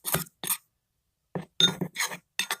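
A spoon mixes jalebi batter of flour, a pinch of baking soda and food colour in a bowl, giving short, sharp clinks in irregular clusters with brief silent gaps between them.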